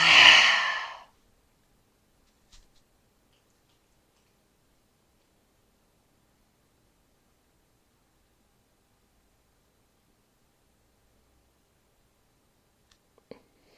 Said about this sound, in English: One more time, nice deep inhale. Exhale.